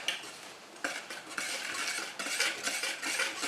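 A hand whisk beats pancake batter in a bowl, rapid metallic clicking and scraping strokes in quick continuous bursts, close and fairly loud, with brief pauses between rounds of whisking and no talking.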